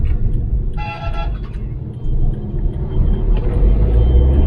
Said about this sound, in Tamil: ரோடு ஃபுல்லாக கார் தான்.